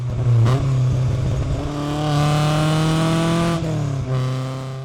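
A stripped-down, lightweight BMW 2002 with no insulation revs loudly up close, its engine note climbing and holding steady before dropping back, with a sharp blip at the start and again near the end.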